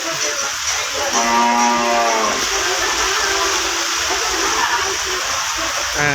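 Cattle at the Gabtoli cattle market in 2025 give a drawn-out moo near the start, set in a noisy outdoor crowd.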